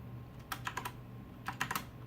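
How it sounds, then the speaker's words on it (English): Several short bursts of computer keyboard keystrokes while entering chart axis values in Excel, clear and close against a quiet room hum, with no talking. "I am typing in the wrong axes for these"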